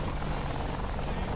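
An AH-64 Apache attack helicopter in the DCS World flight simulator, heard as a steady, close, buzzing rotor-and-turbine drone with a low hum that holds constant throughout.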